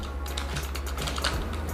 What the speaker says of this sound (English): All the keyboard and everything is working perfectly alright without any kind of issues.